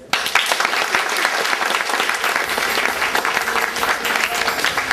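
A crowd in a circus tent applauds graduating students before their stage acts. The clapping is loud, dense and sustained, starting almost at once and holding steady to the end with no voices over it.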